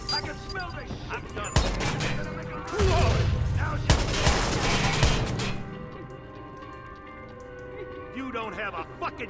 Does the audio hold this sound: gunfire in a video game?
yes